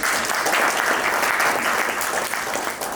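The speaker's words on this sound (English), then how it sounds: "give him a round of applause, please" A crowd at a corporate client program applauds someone, a thick, continuous roar of clapping that stays loud and even for the whole three seconds, easing slightly at the end.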